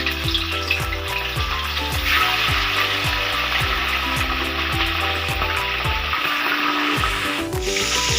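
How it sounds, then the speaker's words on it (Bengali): Salted chicken pieces crackle and sizzle loudly in hot oil, a dense, continuous frying hiss with a repeated scraping rhythm of stirring underneath and no voices. "এটা ভেজে নিব।"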